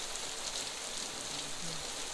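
Water from a temple fountain at a tourist site in Udaipur patters steadily like light drizzling rain, a continuous soft hiss that stays even and fairly close throughout, with no talk over it.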